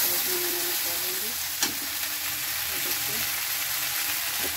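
Okra (bhindi) fries in a pan with a dense, loud, continuous sizzle, broken by one brief clack near the middle and faint tonal background sound.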